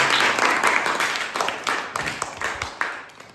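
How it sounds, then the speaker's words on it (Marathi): Classroom students clap together for a classmate in a short burst of applause that starts loud and thins out over a few seconds. "अनुजासाठी एकदा जोरदार टाळ्या वाजवा"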